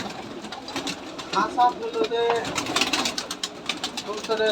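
Pigeons coo at a giribaz pigeon farm in Rajshahi, several soft rolling calls close by while someone talks over them.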